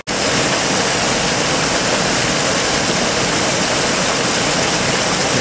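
Fast, active stream water rushing past a dipper's nest overhang, a loud, dense, continuous roar that stays close and constant with no voices.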